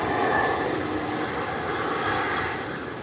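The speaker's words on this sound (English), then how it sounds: "Safe landing from American. Heading down the runway to make its 180." An American Airlines jet rolls down the runway after landing, giving off a steady, loud broadband engine roar and rumble that holds evenly throughout without any voices.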